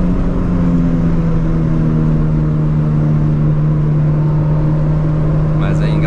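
Chevrolet Corsa Wind 1.8 accelerating at full throttle on a highway, a steady droning engine note with strong low tones and road rumble held constant throughout, recorded from inside the car.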